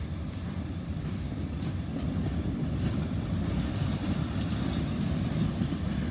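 CSX coal freight train rolling through a rail yard, a steady low rumble of cars and wheels with faint clickety-clack, sustained and even at moderate distance with no talk.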